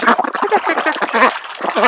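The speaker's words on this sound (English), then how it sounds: "Where the ducks are we're still practicing keeping them tame-ish" Ducks at a creek give a close, rapid run of raspy quacks and gabbling calls in short overlapping bursts.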